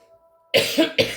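Two sharp coughs from a tickly throat, close and loud, the first harsh and drawn out, the second quick, after a soft hum.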